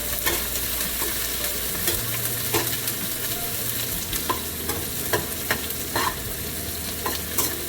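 Onions and dalle chili frying in a pan give a steady sizzle, broken by repeated scrapes and clicks of stirring. No one speaks.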